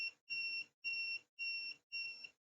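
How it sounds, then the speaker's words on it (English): Buzzer of an STM32F103RBT6 microcontroller fire alarm system, sounding five steady, piercing electronic beeps in an even on-off rhythm, each about half a second long, close and clear with nothing else heard. "you can hear that the sound of the buzzer is different when no fire and when the fire is detected"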